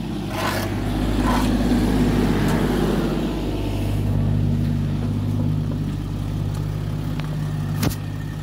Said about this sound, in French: Laisse tourner le moteur.